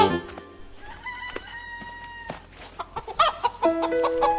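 A hen clucks and squawks in a lively run of calls, fairly close, with a longer drawn-out cackle and quick clucks toward the end.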